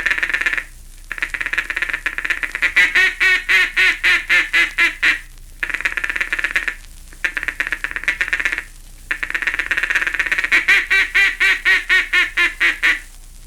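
A mallard duck call, blown with rapid tonguing, imitates a hen mallard's feeding chatter: quick, soft, clipped notes run in three long bursts, each separated by a short pause, close and clear with no talk over them.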